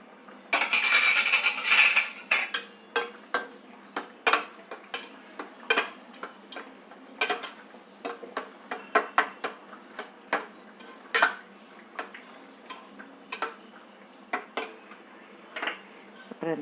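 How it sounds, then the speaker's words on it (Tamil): Roasted eggplant being added and mixed in a bowl, a spoon clinking and scraping against the dish in an irregular series of sharp taps, close and fairly loud, after an opening stretch of rustling. "கத்திரிக்காய் எடுத்து சேர்த்துக்கிறேன்."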